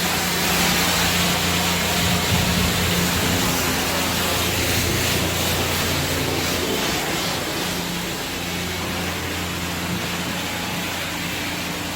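Close-range pressure-washer spray striking a car's bumper during a hand car wash, a steady loud broadband hiss with engine hum underneath, continuous throughout.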